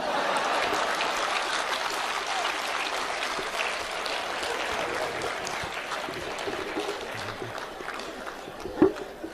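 An audience at a live comedy show claps together, a dense, continuous burst of applause that gradually thins out.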